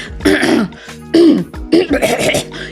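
A person imitates a throat-clearing cough, with three loud, rasping bursts in quick succession, close and forceful.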